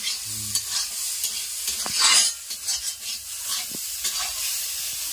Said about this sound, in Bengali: এটা ভাজা হচ্ছে, এটা রান্না ভালো হওয়ার কিছু না, ভাজা ভালো হলেই।